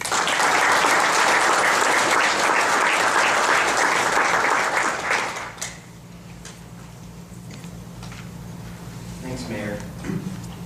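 An audience breaks into loud, sustained applause to welcome speaker Joe Minicozzi of Urban3 at the Ten at the Top forum. The clapping fades after about five seconds, leaving room noise and a few scattered claps.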